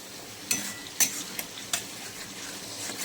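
Spices for chicken fry in a pan while a utensil scrapes and stirs, giving a soft sizzle broken by a few sharp scraping strokes, close and fairly quiet.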